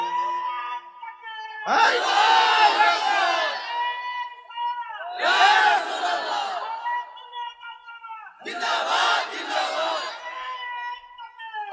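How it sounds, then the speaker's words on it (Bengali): Large crowd at a religious zikr gathering shouting takbir in three loud, sustained collective bursts, each a massed roar of voices separated by brief quieter pauses with a leader's voice between. "আমার আল্লাহরে দেখে একটা জোরে তাকবীর হবে"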